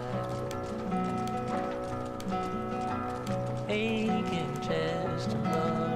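Hooves clip-clop in a steady, rapid galloping rhythm from a horse in Red Dead Redemption, heard close and continuous under a music track.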